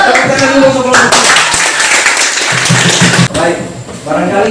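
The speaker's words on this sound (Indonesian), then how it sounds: "Tepuk tangan dulu untuk kelompok 2." Classroom applause for a student group after their presentation, a dense wash of many hands clapping close by with voices talking over it throughout.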